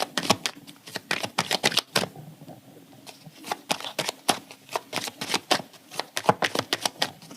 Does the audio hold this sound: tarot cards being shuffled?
yes